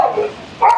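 A dog in a kennel at an animal shelter gives two short, sharp barks a moment apart, close by and fairly loud.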